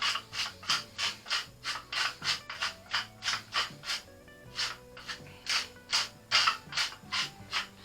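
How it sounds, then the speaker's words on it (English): Pepper mill grinding fresh black pepper for biscuits and gravy, a rhythmic run of about eighteen gritty ratcheting twists, close and fairly quiet with no talk. "it also needs a shitload of freshly ground black pepper"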